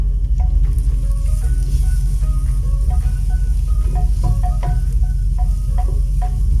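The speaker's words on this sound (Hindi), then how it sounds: "1 से 2 मिनट के लिए लहसुन अदरक को प्याज के साथ थोड़ा सा फ्राई करेंगे।" Garlic-ginger paste frying with onions in a pot, a steady close crackling sizzle with small pops running throughout without talk.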